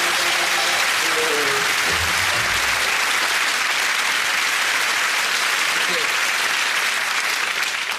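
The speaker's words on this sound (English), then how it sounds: "Audience applauds." A studio audience on a British television comedy sketch show bursts into loud, sustained applause, dense clapping that carries evenly all the way through.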